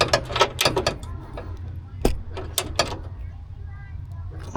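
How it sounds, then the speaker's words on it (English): Ratcheting 13mm wrench tightening the battery hold-down on a Silverado 2500HD, with quick bursts of metallic clicks and clanks close by, pausing and resuming, while someone talks now and then. "I'm back to my 13mm. Oop. Let's tighten this guy up here."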